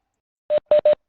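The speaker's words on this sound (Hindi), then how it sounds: "एक फोन में पिक कर रहा हूँ अभी" Three short electronic telephone tones, sounded one by one and then in a quick pair, as a phone is picked up for a call, alone with silence around them.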